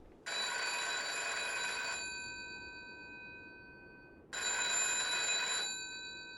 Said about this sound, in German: läutet in seinem Häuschen schon das Telefon